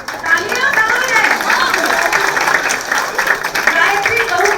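An audience applauds at a children's certificate ceremony after a stage play, a dense, steady crowd clapping running throughout with a background murmur of voices and cheers.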